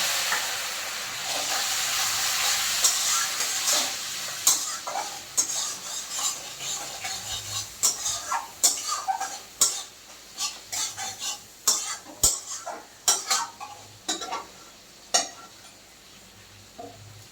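Ginger, garlic and chili paste sizzles as it is stir-fried in a pan, a steady fry at first giving way to repeated sharp scraping and stirring knocks of a utensil against the pan, close and alone without talking.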